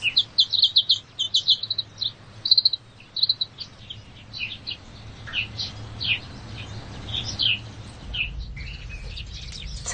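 Sparrows chirp in rapid, bright clusters close by, then fall into sparser, scattered calls over a faint low background hum.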